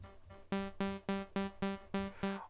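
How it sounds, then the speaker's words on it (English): Seven short plucked synth notes from the Vital synthesizer, each a bright harmonic tone with a sharp attack and quick decay, repeating in a steady rhythm with no voices. "Here you can shape the sound if you either want a plucky sound like this,"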